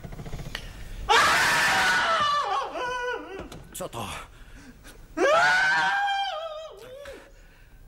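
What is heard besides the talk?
terrible screaming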